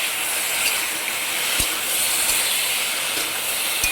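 Cumin, mustard seeds and green chillies frying in oil with okra, a steady loud hiss and sizzle of spices throughout, with a few soft clicks of a utensil.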